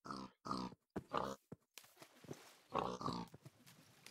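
A pig in the block-building survival game TerraFirmaCraft gives a run of short, close grunts and oinks in uneven bursts, with brief gaps of silence between them.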